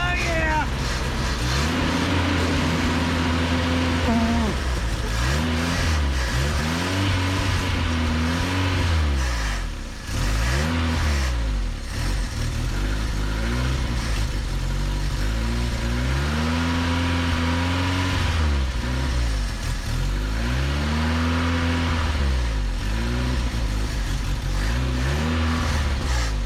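Old truck last tagged in 2005, with leaky vacuum lines, running after being started: a loud, close engine revving repeatedly in rising and falling swells, idling roughly between revs, with voices talking over it.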